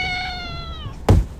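A kitten clinging to a tree branch gives one long, clear, drawn-out meow, followed about a second later by a short, dull thump.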